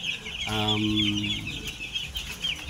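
Eight-day-old chicks in a brooding cage with plastic matting peep continuously, with one louder clucking call near the start over a high, busy chirping background.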